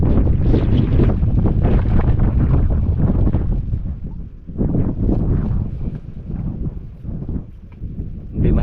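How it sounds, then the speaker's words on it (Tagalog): Strong wind roars across the microphone on a small fishing boat at sea, gusting loudly and steadily with a brief lull midway, while voices talk beneath the buffeting. "Grabe ka hangin oh."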